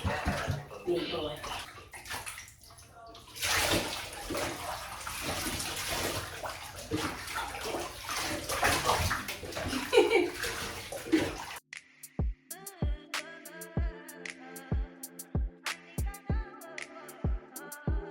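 Water runs steadily into a large household bathtub being filled to bathe a dog, a continuous splashing rush that stops partway through, leaving a quieter room with clinks and taps while someone talks.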